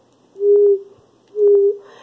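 A person whistles with the mouth to imitate a water drop, producing two short, steady, mid-pitched notes about a second apart. They are close and clear against near silence.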